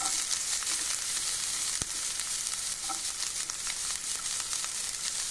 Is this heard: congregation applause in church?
no